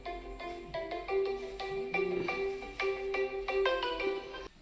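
A phone ringtone plays as a repeating melodic electronic tune of bright, evenly spaced notes, loud and close, with no talk over it.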